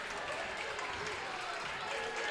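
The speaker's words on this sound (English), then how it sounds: "nice to see Savannah Butts get a round of applause from the Colts Neck crowd" A crowd applauds at a high school girls' basketball game, Colts Neck at Ewing High School: a continuous wash of clapping that holds steady and swells slightly at the end, fairly close.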